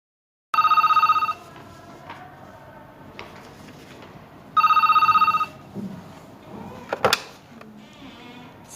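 A telephone rings in two distinct bursts of electronic trilling, each a little under a second long and a few seconds apart, followed by faint handling clicks and a knock.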